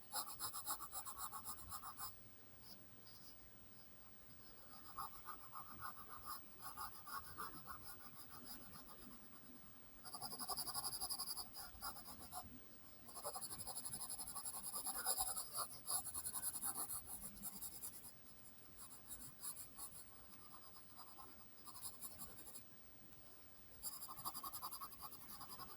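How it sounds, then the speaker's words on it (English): A graphite pencil shades on paper for an eye drawing, giving soft, quiet scratchy strokes in uneven bursts with short pauses, close and alone with no voices. "Add shading just a little bit at a time so that you don't make it too dark"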